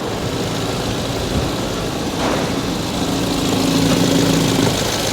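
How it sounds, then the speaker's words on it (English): A Suzuki Swift SZ4 4x4 car engine idles with a low, continuous drone and a faint mechanical rattle from the engine running underneath, fairly close and constant throughout. "It's that rattling on the engine."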